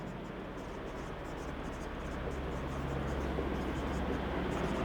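Pen or marker scratching steadily as a maths solution is written out during a class eight mathematics lesson, a continuous soft scraping over a low hum with no talking.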